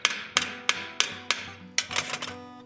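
A round-head brass rivet, 5/8 inch long, is hammered into a rivet set during blacksmith work on a forged coffin handle: about five sharp, evenly spaced metallic strikes, then a quicker cluster of lighter taps, close and clear.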